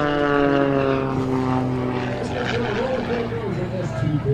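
A Pitts S-2B aerobatic biplane's propeller engine drones loudly and close at an air show, its pitch rising and falling as it maneuvers.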